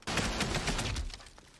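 Battle gunfire from the 1998 war film Saving Private Ryan fills the moment, a loud, dense burst of rapid shots rolling together for over a second before tapering off.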